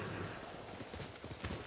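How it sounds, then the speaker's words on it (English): A called horse gallops up in the video game Ghost of Tsushima, with steady rhythmic hoofbeats under a dense, constant wash of game ambience. "Oh wait, I can call my horse."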